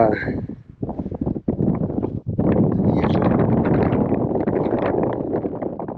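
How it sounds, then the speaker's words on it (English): Strong wind buffets the microphone in a heavy low rumble up on the Konza prairie, mixing with someone talking and nearly drowning out his voice. "It's very windy up here, so it's going to be hard to hear me"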